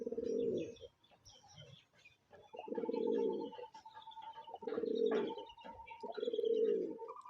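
Indian Kaldum pigeons, a bonded pair, cooing in repeated low throaty rolling phrases with short pauses between, close and clear, a few faint chirps in the background and no speech.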